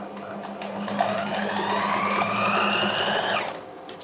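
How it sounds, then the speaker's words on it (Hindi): A sewing machine runs steadily for about three seconds, stitching lace onto fabric, its motor whir close and fairly loud before it slows and stops. "अब ये आधा पाँव में रख कर इसके ऊपर तो सिलाई लगाऊंगी, लेस को अंदर से सेट करूंगी"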